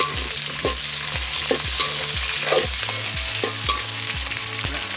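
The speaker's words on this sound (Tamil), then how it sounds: "இப்போ நாங்கள் வெங்காயம், மிளகாய் போடுவோம்." Onion and green chilli frying in oil with cumin and curry leaves for a Jaffna prawn curry, a loud, continuous sizzle broken by regular rhythmic scrapes of a spoon stirring the pan, with no talking.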